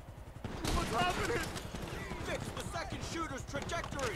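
Rapid gunfire crackles through a GTA V shooting range session, bursts of shots running almost continuously under overlapping voices talking over the action.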